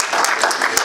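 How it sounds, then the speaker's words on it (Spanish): A church congregation clapping together in praise during a sermon, a dense burst of close applause filling the short moment. "Démosle palmas al Señor"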